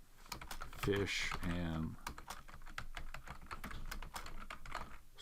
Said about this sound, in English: it wants just to type in U.S.